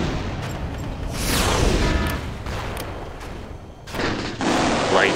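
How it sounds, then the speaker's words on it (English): Guardian missiles striking in the war strategy game TEOD, with heavy booming impacts rolling amid steady gunfire and two sharp, loud blasts that stand out over the battle din. "Guardian missiles have arrived."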